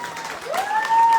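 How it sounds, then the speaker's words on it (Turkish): Concert crowd begins applauding an artist at a community gathering, a short burst of clapping swelling under a sustained musical tone. "Onun için bir alkış istiyorum"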